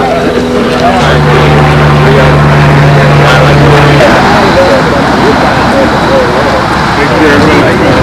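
A small four-stroke engine powers a model airplane flying at an RC field, giving a constant loud buzzing drone with a steady pitch. Strong wind noise sits underneath, and people talk over it.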